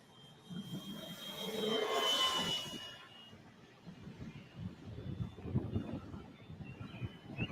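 An RC model airplane making a low flying pass, its engine buzz swelling to a peak within the first few seconds and then fading away, leaving faint wind and rustling outdoors.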